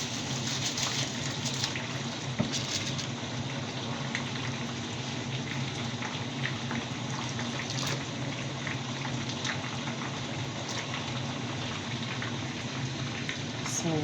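Washed rice going into a cooking pot of hot oil and liquid for chicken kabsa, giving a steady close bubbling, pattering wash with small splashy ticks throughout and no talk.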